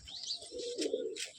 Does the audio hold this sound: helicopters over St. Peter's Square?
no